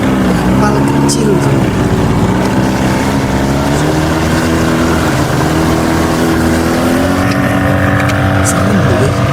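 A small boat's motor drones loudly and steadily close by, its pitch wavering slightly, with wind and water noise mixed in.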